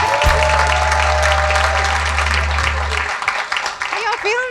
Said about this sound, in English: Clap for Cassandra Dee, everybody